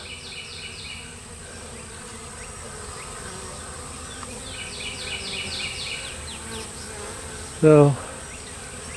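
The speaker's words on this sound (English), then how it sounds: "I don't know exactly what's going on, but that's a lot of bees." A crowd of bees hums at a swarm trap, a steady close buzzing throughout with a few chirping bird calls, and a voice briefly speaks near the end.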